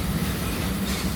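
Steady rumble and rattle from inside a moving train carrying passengers through Europe, a dense low roar with a faint rhythmic rolling of wheels on rails and no talk.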